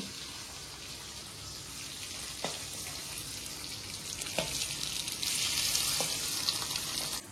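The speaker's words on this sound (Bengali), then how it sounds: "দেখো এদিকে মা রান্না করছে হচ্ছে ডিমের কারি" Egg curry cooking in a pan on a stove, giving a steady close sizzling hiss with a few soft clinks from utensils, and no talk.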